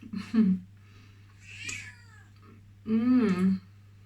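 A cat meows several times nearby, plaintive calls with pauses between them over a low steady hum.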